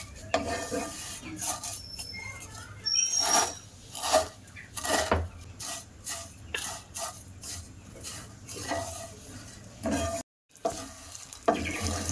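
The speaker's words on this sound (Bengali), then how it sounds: "ঘি দিয়ে ভাজা করলে খেতে ভালো লাগে, তার জন্য ঘি দিয়ে ভাজা করছি।" Vermicelli frying in ghee for sweet jorda semai is stirred in a pan, giving repeated scraping and clinking strokes over a soft sizzle, fairly quiet and close, with no voices.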